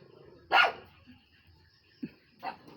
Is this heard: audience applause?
no